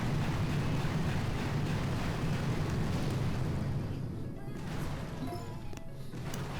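Gunboat artillery barrage in the Boom Beach game: dense, rumbling explosion noise that stays loud and continuous, then eases slightly toward the end.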